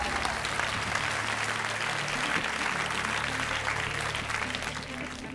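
A studio audience at a French game-show special claps steadily with dense, even applause that holds for several seconds before easing slightly toward the end.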